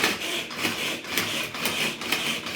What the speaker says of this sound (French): je vais mixer les échalotes